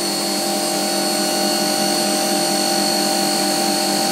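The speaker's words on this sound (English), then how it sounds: "Run around the edge. Cutting the chamfer on there." A CNC router cutting a chamfer around the edge of an inlay whines in a steady, loud, high-pitched drone with constant tonal hum and no pauses.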